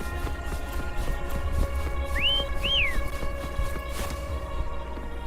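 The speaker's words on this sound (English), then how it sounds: "Try whistling." Two short rising-and-falling whistles, a call to a creature in the video game Wuthering Waves, heard clearly over steady game music and a low background hum.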